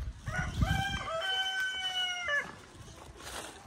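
Chickens clucking close by while a rooster lets out one clear, loud crow, with the hens' calls continuing softly around it.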